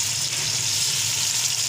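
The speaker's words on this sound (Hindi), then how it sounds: "अब इसमें हम डालेंगे ये टमाटर" Tomatoes sizzle in a hot pan for aloo baingan sabzi, a loud, close, steady frying hiss that fills the whole moment without a break.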